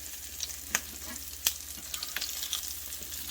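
Crab cakes fry in a hot pan with a steady soft sizzle, broken by a few sharp clicks and scrapes from a spatula moving them around. No one talks.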